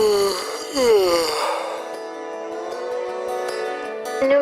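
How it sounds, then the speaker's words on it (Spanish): A person gives a long, drawn-out yawn, a voiced, wavering moan that rises and then slowly trails off over several seconds, close and alone. "Número 4. El bostezo."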